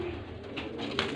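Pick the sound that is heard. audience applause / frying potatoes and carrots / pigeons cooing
pigeons cooing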